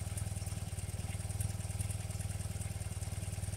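A carburetted motorcycle engine idles while warming up, a steady close putter of even rapid low pulses with no speech over it.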